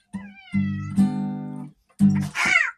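A frightened gray cat meows loudly during a cat fight, a few drawn-out wavering cries close by, the last rising into a strained yowl.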